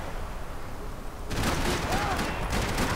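Gunfire from the Max Payne 3 video game: a dense burst of shots starts partway through, following a quieter stretch, and continues loud and crackling to the end.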